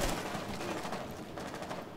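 Rapid automatic gunfire in the shooter game Rainbow Six Siege, a dense burst of crackling shots that fades slightly over a couple of seconds, fairly faint and with no voices.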